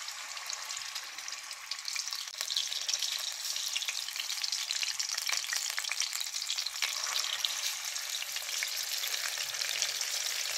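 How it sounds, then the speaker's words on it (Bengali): Steady, bright sizzling and crackling of fish frying in hot oil, continuous and close, with small pops scattered throughout and no voices. "মাছ ভাজা হচ্ছে।"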